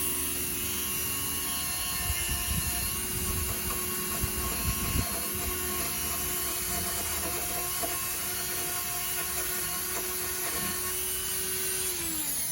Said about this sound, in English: I'll actually take my grinding wheel and larger cup brush on the grinding wheel